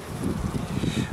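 Cold wind blows outdoors, a short, steady, muffled rumble buffeting the microphone with a soft gusty pulse and no voices.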